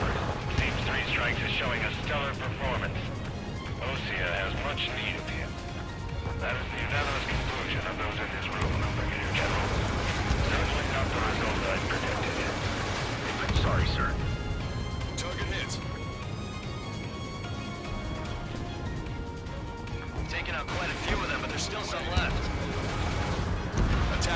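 Ace Combat 7 aerial combat as missiles strike and destroy an enemy naval vessel, heavy booming explosions and gunfire rumbling steadily under game music and radio chatter throughout.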